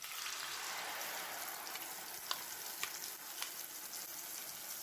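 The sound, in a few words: stirring apple puree into apple halwa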